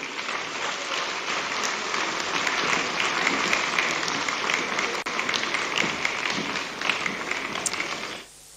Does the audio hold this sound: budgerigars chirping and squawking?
no